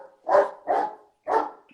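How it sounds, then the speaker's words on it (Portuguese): A dog barks close outside a window, three loud, full barks in quick succession with short gaps between them, no talking over them. "Agora resolveu latir aqui na minha janela, Tavinho."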